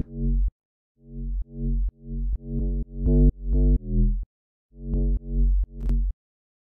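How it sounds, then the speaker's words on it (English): A synthesizer playing a sequence of about ten punchy, buzzy sustained notes with rich harmonics, stepping through different pitches with brief gaps between phrases. "And I have this sound, which I made this one."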